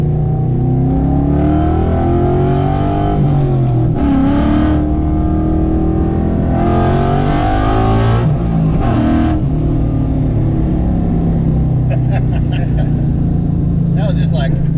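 A car with a Ford Coyote engine on drag tires accelerates hard from inside the cabin, the engine note climbing through gears with loud rising pulls and brief shift breaks, and people talk under it.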